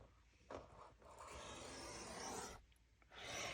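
A scoring tool drawn along the 8.5 inch side of a sheet of paper, a close, quiet rasping scrape in a few strokes separated by short pauses.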